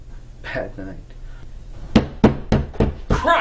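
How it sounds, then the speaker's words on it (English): Several sharp knocks on a door land in a quick irregular run, fairly close and distinct, following a short stretch of voice-like sound. "the incredibly light knock was pretty startling"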